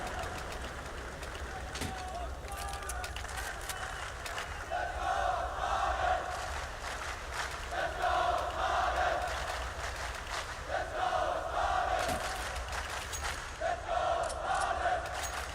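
A large arena crowd at the PGL Major Kraków Counter-Strike quarter-final cheers and chants for Astralis in rhythmic swelling waves, loud and sustained beneath excited commentary.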